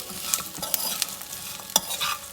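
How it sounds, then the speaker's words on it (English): Fried taro (arbi) tossed with seasoning in a pan makes a soft, close sizzle broken by sharp scraping taps and clatters as the pieces are stirred. "I'm going to add this fried Arbi in there, and then just toss it around"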